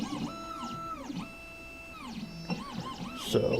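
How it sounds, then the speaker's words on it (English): An Xhorse Dolphin XP-005 key cutting machine calibrates, giving off a series of rising and falling electronic motor whines and steady tones, several sweeping glides with a clatter near the end, close and moderately loud. "So it's doing its little calibration."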